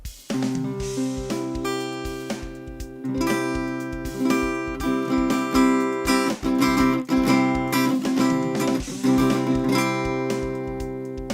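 Major barre chords on guitar, with the root on the 5th string, ring out, strummed in a steady rhythm of repeated strokes, bright and close, with sustained notes between strums and no talking.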